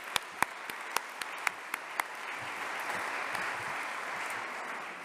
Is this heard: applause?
yes